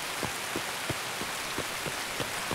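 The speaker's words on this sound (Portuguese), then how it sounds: "tá chovendo" Steady rain falls in Escape from Tarkov, a dense, even hiss with faint irregular drop taps, continuous and fairly loud with nothing else over it.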